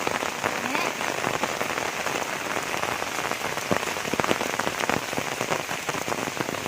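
Steady rain pattering densely on a hard surface, with scattered louder drops and no talking, filling the whole stretch evenly.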